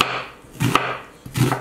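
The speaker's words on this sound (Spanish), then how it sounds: "Ahora voy a partir la cebolla." A knife chops through an onion on a board, heard as two heavy, close thuds with a woody knock, spaced apart and with no talking.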